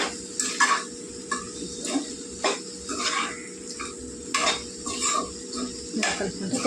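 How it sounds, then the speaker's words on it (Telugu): Chili powder stirred into hot oil in a pan for a fenugreek-leaf and potato curry, a spoon scraping and clinking against the metal in repeated strokes over a soft steady sizzle, close and clear with no talking. "కారం అయితే ఒకసారి ఇలా మనం కలిపేసుకుంటే వేగిపోద్ది"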